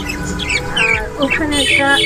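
Budgerigars in a breeding cage on a bedroom balcony chirp and squawk in a busy, overlapping chatter, loud and close, with rapid high warbles throughout.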